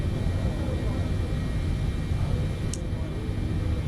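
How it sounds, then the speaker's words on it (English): Jumbo jet accelerating down the runway in Microsoft Flight Simulator, a steady low engine roar that stays loud and even throughout, with a faint brief chirp near the end. "We're rolling down the runway."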